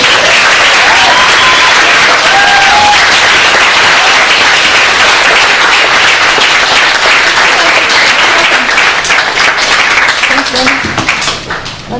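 Dinner audience applause, dense sustained clapping from a large crowd filling the room for the full duration, tapering slightly at the end.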